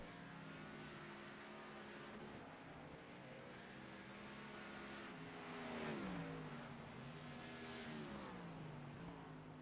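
Race car engine in the iRacing sim at the Charlotte Roval, a steady loud drone whose pitch climbs and falls as the car is slung through corners, with a brief rise near the middle.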